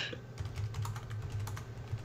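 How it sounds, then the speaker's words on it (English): Soft, quick keystrokes on a computer keyboard during a multiplayer strategy game session, a brief run of light, close clicks with no talking. "You can all hear your keyboards."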